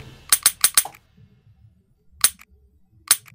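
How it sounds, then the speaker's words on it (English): Sharp clicks from an empty gun in Minecraft: a quick run of four dry clicks, a pause, then two more single clicks, close and crisp against near silence. "I heard clicking sounds. Oh, your guns are totally out of ammo."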